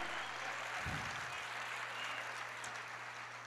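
During a Portuguese-language church service, a congregation applauds with a dense, even patter of many hands clapping at once, heard from a distance under a faint low hum.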